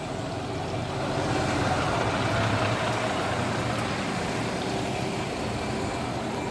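A bus pulls away at Victoria Bus Station on a wet day, its engine a steady, fairly loud rumble with tyre hiss on damp road, heard alone without talk.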